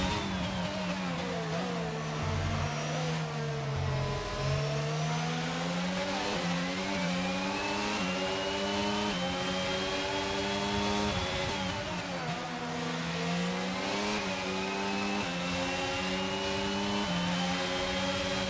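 Ferrari Formula 1 car engine in an F1 racing video game, a loud high-pitched scream sweeping up through the gears with brief downshifts, continuous and close with no talk over it.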